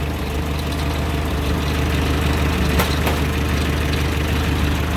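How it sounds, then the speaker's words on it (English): The engine of a 1925 Durant Star touring car idles steadily with a low, even rumble, recorded close up under the open hood with no talking. "I wanted to let you see this motor run"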